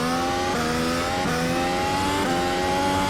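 A Mercedes W13 Formula 1 car in a racing video game accelerates hard out of a corner, its engine note climbing steeply through several rapid upshifts, loud and continuous with no talk over it.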